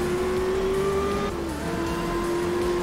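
A rally car engine in a racing video game drones steadily with a sustained tonal whine that dips and shifts midway as the car slides through a turn, with no voices.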